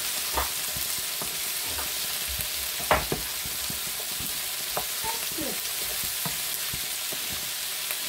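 Food frying in oil in a pan for a quick pan-fried dish: a steady, hissing sizzle fills the whole stretch, with faint scattered clicks and scrapes of stirring and no voices.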